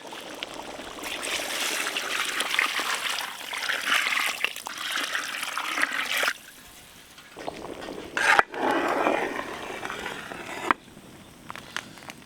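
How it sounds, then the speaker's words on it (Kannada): Water pours steadily in a continuous trickling stream into a pot of cooked chicken for biryani for several seconds, pausing briefly, then resumes with a few splashy bursts near the end. "ಬಿರಿಯಾನಿಗೆ ಅಳತೆ ನೋಡ್ಕೊಂಡು ನೀರು ಹಾಕ್ಕೊಳ್ಳಿ."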